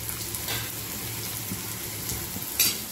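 Finely chopped onion frying in hot oil in a kadai, a steady close sizzle running throughout with a brief louder crackle near the end.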